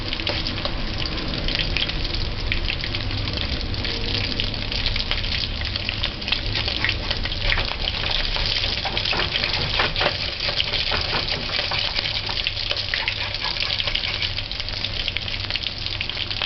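Fish frying in a pan for a homemade fish sandwich or fish and chips, a steady close sizzle and crackle of hot oil that holds evenly throughout with no talking.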